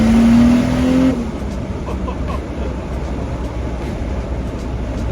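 Big-turbo Toyota Supra on 10 PSI boost revving to about 5,000 RPM, a loud rising engine note with turbo spool that cuts off abruptly, leaving a lower idle rumble.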